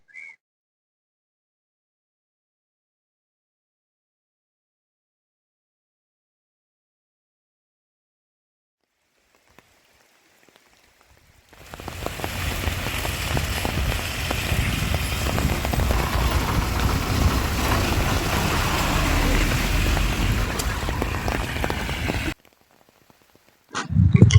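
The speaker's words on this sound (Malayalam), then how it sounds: "വനത്തിലെ മഴയെന്ന് പറഞ്ഞാൽ മനോഹരമായ മഴയാണ് നിങ്ങൾ ഈ കാണുന്നത്" Rain falls in a forest, heard as a dense, even hiss that starts suddenly after a long silence, holds steady for about ten seconds, then cuts off abruptly.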